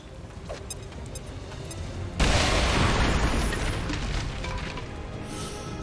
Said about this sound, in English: Bradders, just chuck the explosives here. Come on. Frag out!